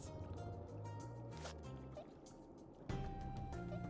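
A holy hand grenade drops into the water in the game Worms: Clan Wars, making a liquid plop and dripping splash against steady game music and background tones.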